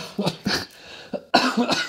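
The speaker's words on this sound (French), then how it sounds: "ça me fait tousser" A series of sharp coughs, about five bursts in uneven succession, close and fairly loud, with a short pause in the middle.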